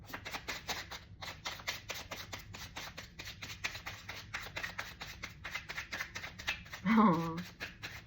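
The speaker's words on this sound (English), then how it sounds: "One more shuffle." Tarot cards shuffled by hand in a steady run of crisp riffling flutters and slaps, close and clear, with a brief voice near the end.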